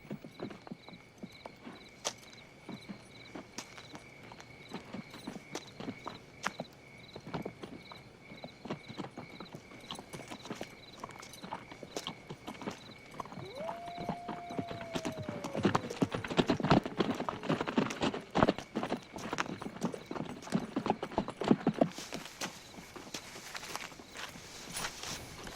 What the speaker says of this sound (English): We got these here fine horses.